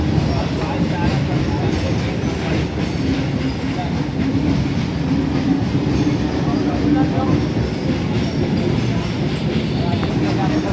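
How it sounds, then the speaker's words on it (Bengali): A coal-laden freight train passes nearby with a steady heavy rumble and rolling clatter of wagons lasting the whole stretch, while people talk over it. "আর তার মধ্যে এখন ট্রেন যাচ্ছে"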